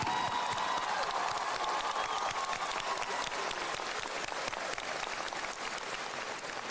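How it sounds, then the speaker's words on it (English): An audience at the 2025 Ben Franklin commencement applauds the valedictorian and salutatorian, a steady, even wash of many hands clapping that holds at a moderate, slightly distant level for several seconds. "can we have a loud round of applause"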